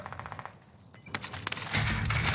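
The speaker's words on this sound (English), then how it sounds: "I'm getting shot from somebody else, bro." Gunfire in Call of Duty: Modern Warfare, heard as a short clatter of rapid shots. It starts fairly quiet and builds into a louder, denser burst near the end of the brief clip.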